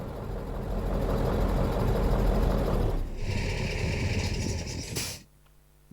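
A Mercedes O303 bus engine in OMSI 2, heard from outside, runs as a steady broadband rumble, then a whining tone rises, a sharp burst follows near 5 s and the engine cuts off, leaving low residual hum.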